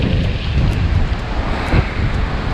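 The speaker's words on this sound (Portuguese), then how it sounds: "Tá ventando muito forte" Strong wind buffeting the microphone in a constant loud roar at Praia do Guaiuba beach in Guarujá, Brazil, with a low rumble that may hide surf, no voices.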